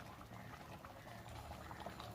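A pan of sweet-sour jujube (kul) pickle simmers with a soft, continuous bubbling, quiet and close, with no voices.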